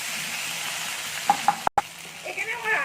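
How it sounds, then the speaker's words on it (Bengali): A paste of ground ginger and green chili fries over low gas in a pan, a steady close sizzle broken by a few sharp clicks and a brief drop to silence. "আদা কাঁচা লঙ্কাটাও ভাজা হয়ে গেছে"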